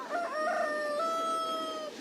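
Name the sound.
rooster crowing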